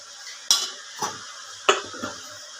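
Vegetables fry in a pan with salt and turmeric, a soft low sizzle punctuated by four distinct clinks and scrapes of a spoon against the metal as they are stirred.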